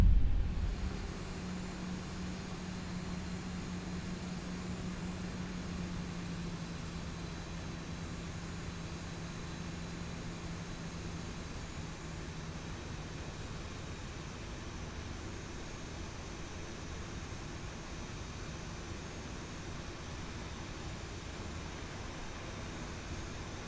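Light aircraft in X-Plane 11 taxiing slowly to parking on a windy day at Fort Myers, a steady low engine drone with a faint hum that eases off after the first few seconds, continuous and alone.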